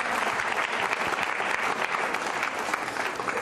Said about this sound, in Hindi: तालियां जोरों से बजाइए आपके लिए